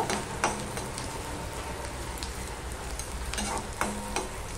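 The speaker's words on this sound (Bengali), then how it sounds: "পেঁয়াজটা আমি লাল লাল করে ভেজে নেব।" Chopped onion fries in a pan for a fish curry, a steady close sizzle broken by a few scraping strokes of a spatula as the onion is stirred, with no voices.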